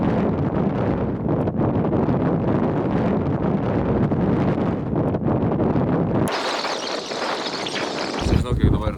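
Cold wind gusting over the frozen Curonian Lagoon, a loud continuous buffeting roar against the microphone that drops away abruptly near the end, with a voice heard.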